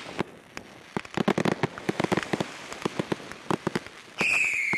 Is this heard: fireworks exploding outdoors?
yes